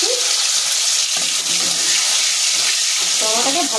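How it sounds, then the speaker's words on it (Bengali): Chopped tomatoes frying in oil with dried red chillies, a loud continuous hissing sizzle filling the whole stretch, with a few faint scraping stir sounds and no speech. "টমেটোটাকে ভালো করে ভাজতে হবে"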